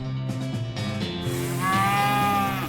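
A cartoonish cow moos in the Western role-playing game West of Loathing, the low drawn-out call heard once over game music with bright tonal chimes, fairly loud and close.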